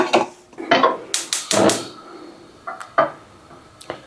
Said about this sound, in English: Put the lid on.